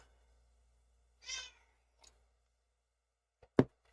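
A single drawn-out meow, probably a person's voice imitating a cat, sounds once at moderate loudness, followed by a couple of faint clicks and a short sharp thump near the end.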